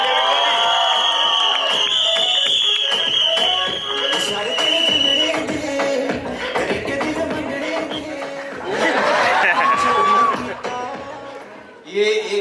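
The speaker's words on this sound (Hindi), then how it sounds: "एक बार शोर बजाओ परेश सर के लिए।" An audience at the film trailer launch for Kuch Khattaa Ho Jaay cheers and whistles for Paresh. A loud, sustained crowd roar carries a shrill whistle, while an amplified voice talks over it.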